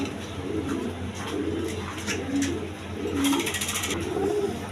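Snake-eyed pigeons coo in soft, repeated rolling phrases at close range over a steady background hum, with some brighter clinking noises near the end.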